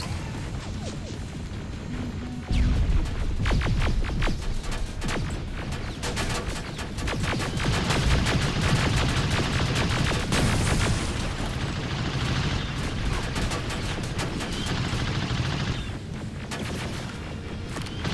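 Gunfire in the Terminator Resistance video game during a fight against a tank: dense bursts of loud shots crackle almost continuously, mixed with heavy booming impacts and crashes, with no talk over them.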